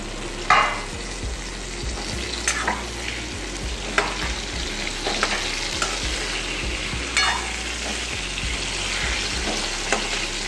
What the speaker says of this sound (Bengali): আমি এবার ওই তেলেই আলুগুলো দিয়ে দিচ্ছি একসঙ্গে